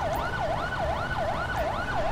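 An ambulance siren in the police game LSPDFR wails in a steady, fast up-and-down cycle, loud and continuous over low engine rumble, with no talking.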